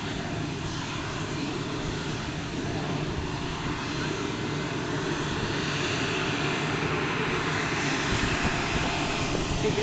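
A large airplane engine drones loud and close on the ground just after landing, a steady, broad roar holding level with a slight swell toward the end.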